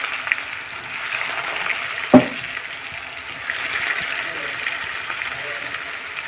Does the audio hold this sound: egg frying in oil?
yes